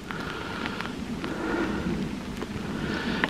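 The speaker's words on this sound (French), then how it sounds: "Ah, il pleut." Rain falls during a mountain hike near the Tignes lakes in the French Alps. It makes a soft, steady patter and hiss with a few sharper drop taps, and no one speaks.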